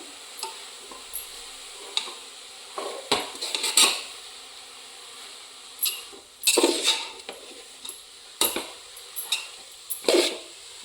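Carrot halwa being stirred in a pan with a metal spoon, with irregular scraping clinks and knocks against the pan coming in bursts over a faint hiss of cooking, close by and without talk.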